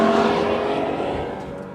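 A 3-liter V6 in an Acura/Honda NSX screams toward its 8,000 RPM redline, loud and close at first, then easing and fading slightly over under two seconds with no voices.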